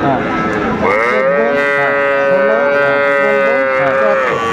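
Calves and young bulls at a rural cattle market in Dinajpur, one animal letting out a long, loud, close moo that carries through almost the entire clip with little else around it.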